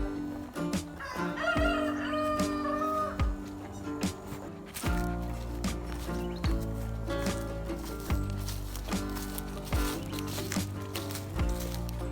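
Hens and a rooster at a farm chicken coop beside an old barn, clucking and crowing fairly close amid steady background clatter and thumps.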